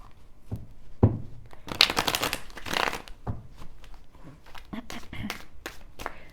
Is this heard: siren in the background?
no